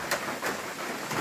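Rain falls on a trail shelter along a long-distance hiking trail, a steady soft hiss with a few louder pattering bursts, fairly faint and continuous.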